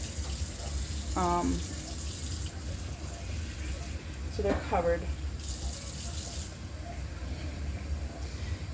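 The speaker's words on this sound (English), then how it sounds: "I just poured the rest of the water over it" Water pours steadily over pork chops in a baking dish, a continuous wash of splashing with a brief spoken comment over it.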